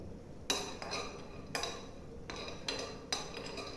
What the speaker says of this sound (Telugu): ఆయిల్ ఏమి వేయకుండా మంచిగా వేయించుకోవాలి.